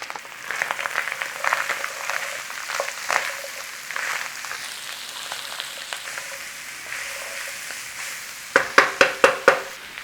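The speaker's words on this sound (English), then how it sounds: "In there, our onions. Come on, let's start those onions off." Onions frying in a pan for a smothered beef and potato bake give a steady, moderate sizzle, broken by light clatter and a few sharp, rhythmic knocks near the end.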